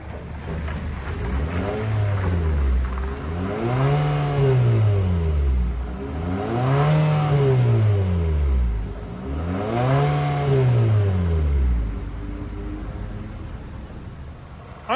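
A 2023 Infiniti QX55 with a 2-liter turbo four-cylinder revs through its functional dual exhaust with chrome tips, making three or four rising and falling runs heard close and clear with no talking.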